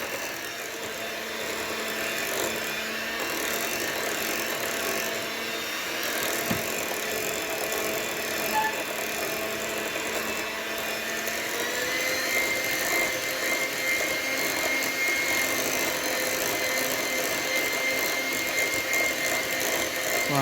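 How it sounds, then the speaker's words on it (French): Electric mixer whirring steadily as butter is blended into cream for a Paris-Brest, a continuous mid-level motor drone with faint rattling, running without pause and with no talk. "Vous mixez bien pour que il n'y a plus de beurre."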